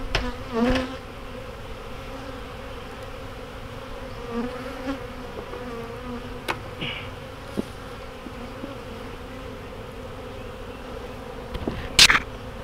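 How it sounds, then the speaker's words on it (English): A honey bee colony buzzes steadily during a spring hive inspection. The close, continuous drone of many bees carries a few brief knocks and clicks from handling the hive boxes, and nobody speaks. "A lot of bees."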